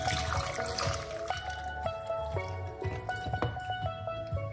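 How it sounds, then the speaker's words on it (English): Liquid pours and trickles into a container in a kitchen, a gurgling stream with tonal ringing that rises and falls over several seconds, no speech. "let's pour it out"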